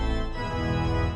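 The Royal Albert Hall pipe organ sounds a loud, dense full chord, a brief blasting wall of sustained tone rich in deep bass, held steady throughout.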